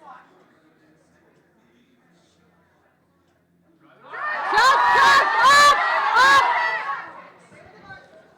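An audience at a powerlifting nationals meet erupts into cheering and shouting for a lifter's squat attempt, a loud burst of mixed voices after a quiet stretch, fading back down near the end.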